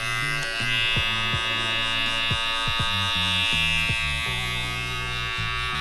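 Barber's electric hair clippers cutting hair during a back taper, a loud close steady buzz whose pitch dips and shifts repeatedly as the blade bites into hair, with no talk.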